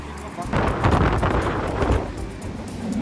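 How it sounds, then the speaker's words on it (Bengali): Heavy wind in Lisbon buffets the microphone in a loud, rumbling roar that swells and eases, with a voice faintly underneath. "প্রচুর বাতাস।"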